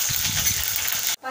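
Curry leaves and their pieces hit hot oil in a pan for a Malvani red pumpkin dish, giving a loud, close, crackling sizzle that runs steadily then cuts off abruptly near the end.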